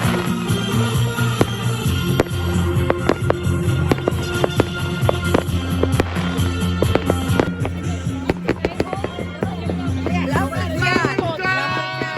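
New Year's Eve fireworks set off outdoors at midnight in the Romanian mountains, a dense, loud barrage of cracks, bangs and crackling bursts going on throughout, with voices and music faintly underneath.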